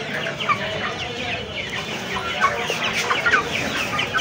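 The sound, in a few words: rooster clucking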